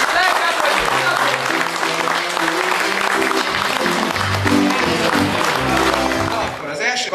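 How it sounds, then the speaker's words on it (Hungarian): Wedding guests clap loudly and continuously throughout, while music and voices carry on underneath the applause. "Egy nagy tapsal köszönjük meg a munkájukat"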